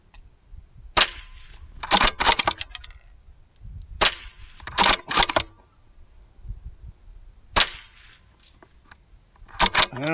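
A .22LR rifle fires a series of sharp, separate shots at a steel spinner target outdoors, each crack followed by a short metallic ring, spaced a few seconds apart and loud and close.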